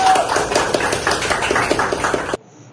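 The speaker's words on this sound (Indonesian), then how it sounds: "Oke, tepuk tangan dulu." Audience in a university lecture hall clapping hands, a dense burst of many claps lasting about two seconds before cutting off abruptly to near silence.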